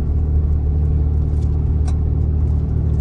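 A car engine runs steadily at low RPM, a loud, close, even rumble that keeps going through a gear shift with no clear surge in revs and no talk.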